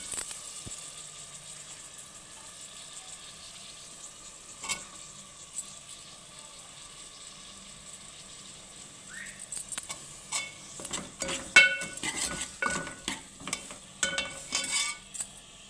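Ivy gourds tossed into a pan fry with a low sizzle, quiet at first, then a spoon scrapes and stirs them in a busy run of clinks and scrapes toward the end, with no talking.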